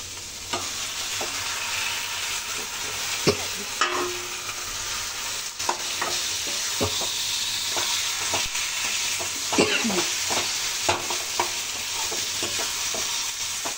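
Eggplant frying in a pan with red chilli powder, a steady sizzle throughout with scattered clicks and scrapes of stirring, close and fairly loud with no talking.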